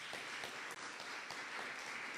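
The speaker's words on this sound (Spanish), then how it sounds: "Aplausos a usted al Señor" A congregation claps for the Lord during a church worship service, a soft, steady wash of applause heard faintly and evenly throughout.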